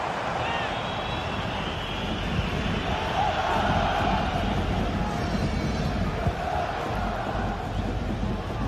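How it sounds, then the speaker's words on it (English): A football stadium crowd roars during a Barcelona corner, a steady, loud wash of massed voices swelling slightly, with a commentator talking over it. "just listen to the crowd"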